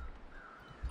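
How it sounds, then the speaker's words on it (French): Crows cawing in the snowy wilderness of The Long Dark survival game, a single faint call standing out against quiet ambient wind over less than a second. "J'entends des corbeaux."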